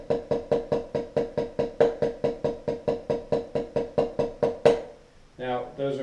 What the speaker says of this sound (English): Those are paradiddles.